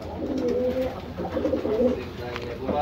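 Pedigree pigeons coo in a loft, with soft repeated calls under someone talking nearby throughout.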